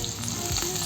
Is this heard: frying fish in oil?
yes